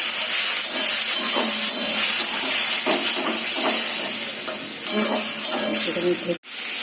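Masala of cumin and dry chili powder frying with a splash of water in a pan for a hilsa fish curry with potato and eggplant, a loud continuous sizzle and hiss with clattering stirs, cutting off abruptly near the end.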